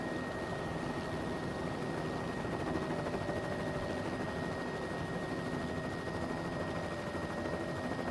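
Helicopter in Microsoft Flight Simulator 2024, a steady broadband rotor and engine drone with a faint constant whine, holding at an even loudness throughout with no talk.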